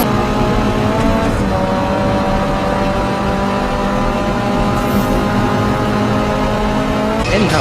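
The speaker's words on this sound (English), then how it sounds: "I must accelerate and overtake several drivers with some nitrous" Racing video game with a race car accelerating hard on nitrous from the back of the pack, engine roaring loud and steady throughout with rising harmonic tones, other cars' engines mixed in.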